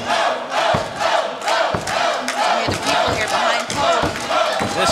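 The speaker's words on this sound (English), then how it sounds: "This crowd is on fire tonight here." A sold-out wrestling arena crowd roars and cheers at a live NWA show, a loud continuous wall of voices with repeated sharp swells and bursts of shouting close together.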